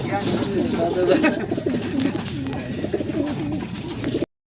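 Racing pigeons cooing near the loft, repeated low throaty coos under a busy background with voices talking throughout.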